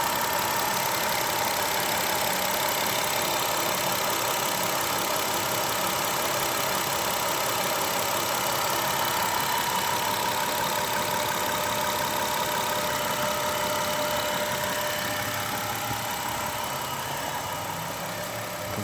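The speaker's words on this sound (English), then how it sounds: "I still have the ticking sound upon restarting it." A car engine idling after a cold start in a bay that had an electrical fire from a faulty ground circuit, a steady close mechanical drone with a faint continuous tick running through it and no talking.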